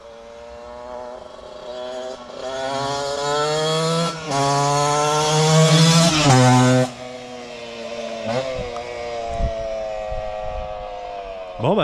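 Yamaha DTX 125 two-stroke motorcycle fitted with an Ignitech ignition, engine running with buzzy steady revving that climbs to a loud peak then settles back to a steady idle, recorded close.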